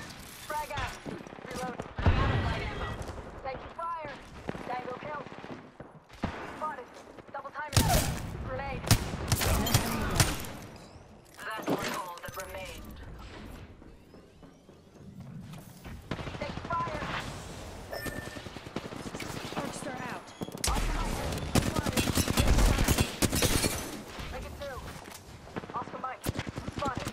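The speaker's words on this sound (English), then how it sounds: "I'm taking shots. I'm under fire." Repeated bursts of gunfire in the battle royale game Apex Legends, sharp shots and rapid volleys spread through the clip at close range, with a player's voice talking intermittently over the fighting.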